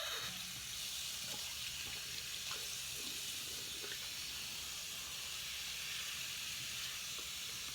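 Running water rinses bleach out of the knots of a hair closure, a steady broadband hiss of tap flow in a sink that continues unbroken throughout with no speech.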